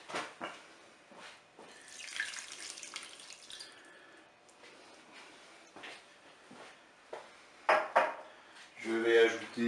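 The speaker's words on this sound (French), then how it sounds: "Je vais ajouter de l'eau pour recouvrir." Water poured into a Cookeo electric pressure cooker over turkey legs and tomatoes, a splashing pour heard in short uneven bursts with kitchen clatter and a voice speaking near the end.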